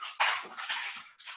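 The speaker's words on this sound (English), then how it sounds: "I have two dogs fighting in here right now." Two dogs scuffle indoors, a burst of snarling and yelping that swells suddenly and runs on with whimpering, dropping briefly before a final loud flare-up.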